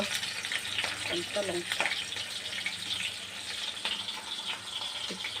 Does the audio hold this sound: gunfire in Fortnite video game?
no